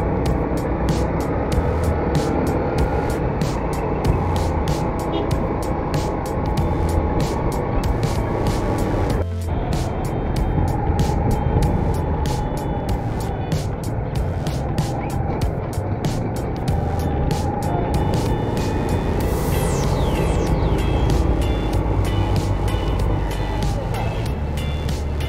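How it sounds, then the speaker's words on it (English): Heavy road traffic in a jam in Bhaktapur, Nepal: continuous engine rumble and vehicle noise heard from inside a car, with horn-like tones and a passing whine, under intermittent talk. "Look at the traffic jam here."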